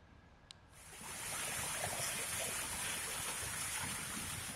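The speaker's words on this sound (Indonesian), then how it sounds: "Arus banjir dengan derasnya melanda desa Sangkawangi, Lebak, Banten" Flash flood water rushing through a river in a village in Lebak, Banten, a broad loud roar that swells in after a brief quieter start and then holds steady, close and continuous.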